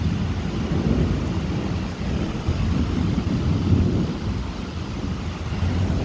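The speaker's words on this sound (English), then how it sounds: "That's thunderstorms out there, man." Thunder rumbles through a heavy thunderstorm outdoors, a loud continuous low roll with swelling peaks over steady rain and wind noise, no voices.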